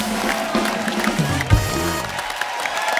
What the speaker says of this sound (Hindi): एक बार तो हमारी विमेन क्रिकेट टीम के लिए जोरदार तालियां।